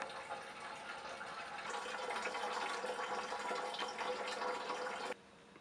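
Water flowing from an upper reservoir down through a small generator to a lower reservoir in a demonstration setup, a steady splashing gush that swells partway and then abruptly cuts off, heard alone.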